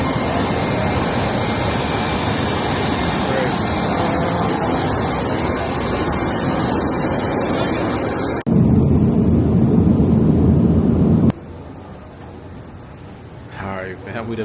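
A jet airliner's engines whine and roar steadily at close range, as heard while boarding a plane from the outside, with a sharp shift in the noise partway through and muffled quiet at the end.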